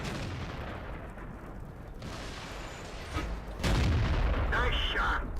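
Tank cannon fire in the World of Tanks game: heavy booming shots and mechanical rumble over a low engine drone, with a louder blast near the middle followed by a sustained harsh burst, while a person speaks at one point.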